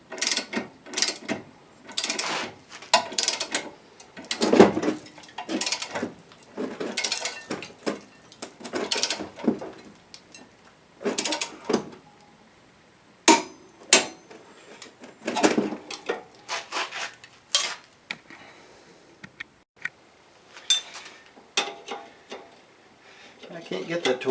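Torque wrench tightening the bolt side of strut bolts on a 1997 Suzuki Sidekick, giving repeated ratcheting clicks and metallic clacks in uneven bursts, close by, with occasional handling noise between pulls.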